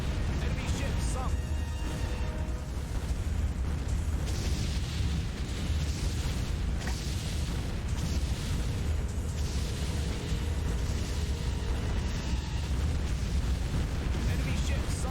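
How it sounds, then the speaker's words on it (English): Warship Gunner 2 naval combat, with a continuous roar of heavy explosions and booming blasts as enemy warships sink, loud and dense throughout. "Enemy ship sunk."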